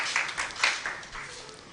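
Audience applause at a plastics recycling launch event in Nigeria, a short burst of scattered clapping from a crowd, moderately loud and fading over under two seconds.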